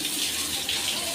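High-pressure water gushes steadily from a tap in a house's plumbing fittings, a dense, even hiss that stays close and loud throughout.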